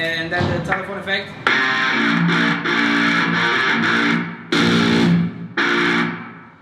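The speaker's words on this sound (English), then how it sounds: "And then the telephone effect." An electric guitar played through a thin, band-limited telephone-style effect rings out in strummed chords and short phrases, close and fairly loud.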